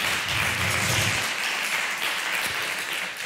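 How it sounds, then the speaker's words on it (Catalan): Dense audience applause fills a winter literary evening honoring Montserrat Roig, steady and full throughout with no voices. "Un fort aplaudiment"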